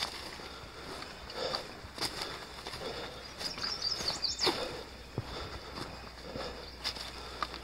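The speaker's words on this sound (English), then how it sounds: "You can hear the birds chirping." Faint high chirps from birds at a distance over steady outdoor morning ambience on a Pennsylvania hiking trail, with some rustling and scuffing nearby.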